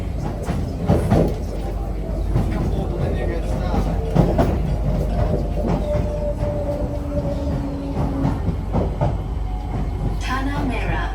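An SMRT Singapore metro train, a KSF CRRC C151B, rolls along the line with a continuous loud low rumble, wheel clatter and occasional squealing tones, heard from inside the carriage.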